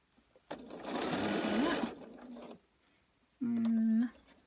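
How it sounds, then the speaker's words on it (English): Sewing machine stitching a quilted pumpkin, two short quiet runs of rapid stitching with a pause between them, with a little talk beneath. "and we're gonna start sewing"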